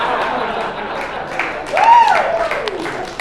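An audience at a stand-up comedy show at Westside Comedy Theater in Santa Monica breaks into applause and scattered laughter, a broad crowd wash of clapping swelling briefly mid-clip with a voice over it.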